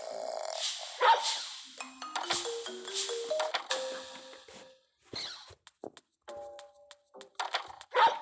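A dog barks repeatedly and loudly nearby in short irregular bursts, with some growling and a ringing tone in between.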